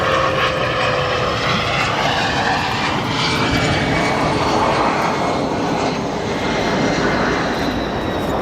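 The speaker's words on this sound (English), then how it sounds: "Let's take a look at our CRJ-200 arrival here." A CRJ-200 regional airliner arrives and lands at Chicago O'Hare, its loud, steady engine roar filling the air continuously with a broad rushing wash and no voices.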